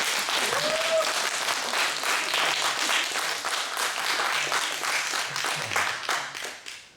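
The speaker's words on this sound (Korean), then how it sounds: "우리 사랑하는 아내가 이쁘다고 생각하면 박수 한번 해주시면 좋겠습니다" An audience at a fathers' school lecture claps warmly, a thick roll of many hands lasting several seconds with a brief voice and whistle-like tone early on, then thinning and fading out at the close.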